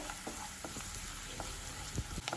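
Onions fry in a pan with turmeric, chilli, garam masala, cumin and coriander powders, giving a steady quiet sizzle broken by a few scrapes and taps of a stirring spoon, with no one talking.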